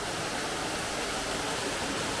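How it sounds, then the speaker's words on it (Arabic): A small waterfall in Tunisia pours in a steady, broadband rush of falling water, even and continuous throughout, with no voices over it. "هذا شلال صغير مش"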